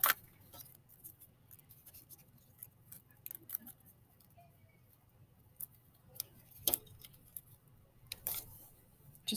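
A thin tin sheet being folded for Mexican tin art, giving faint, sparse metallic clicks and crinkles close up in a quiet room.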